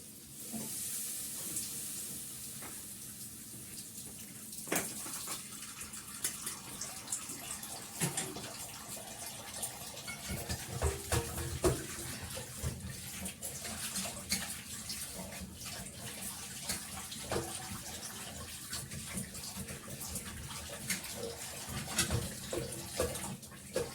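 Water runs and splashes in a kitchen during washing, an uneven rushing stream with clinks and knocks of dishes, moderately close.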